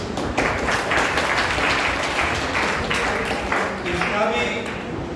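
An audience of agriculture science students applauding at a college event, sustained clapping that stays fairly even throughout, with slight swells and no clear speech over it.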